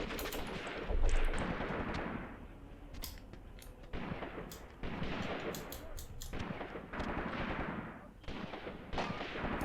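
Machine gun fire in the tactical war game Graviteam Tactics comes as rapid bursts and scattered shots, with a heavier thump early on, over a busy battle background at moderate loudness.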